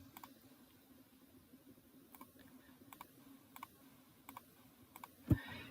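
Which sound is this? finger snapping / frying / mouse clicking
mouse clicking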